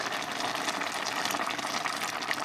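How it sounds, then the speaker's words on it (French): Water rushing steadily into a pot of lentils, potatoes and chorizo cooking in white wine, a close, continuous gushing pour with no talk. "Je complète encore une fois avec de l'eau, toujours pour couvrir."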